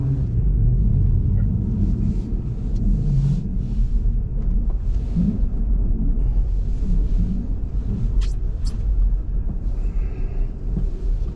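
Car driving on snow-covered, greasy roads while leaving a parking lot, a steady low interior road rumble throughout with a few faint ticks and clicks.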